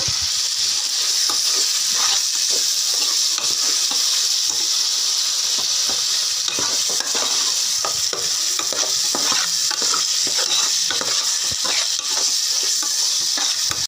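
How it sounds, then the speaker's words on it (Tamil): Sliced tomatoes sautéing in a pan while making mutton biryani, a steady sizzle and hiss with repeated scraping stir strokes, close and continuous with no talk. "இப்போ நல்லா சாட்டை பண்ணிக்கோங்க"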